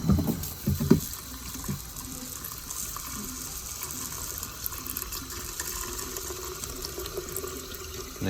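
Water runs from a tap into a bottle-tumbler canister for cleaning old bottles, starting with a few splashy bursts and settling into a steady, moderately quiet pour.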